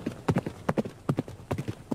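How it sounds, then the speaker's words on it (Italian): Horse hooves while riding in the video game Frontiers, clip-clopping in a quick, regular gait of paired thuds, close and distinct, with no talking over them. "Saliamo a cavallo e andiamo giù di sotto"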